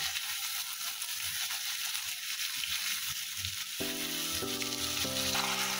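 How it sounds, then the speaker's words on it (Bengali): Steady sizzling of prawns frying in a hot pan over medium flame, with tonal beeps or chimes near the end, and no one talking. "মিডিয়াম ফ্লেমে চিংড়ি মাছগুলো নেড়ে ছেড়ে হালকা ভেজে নেব।"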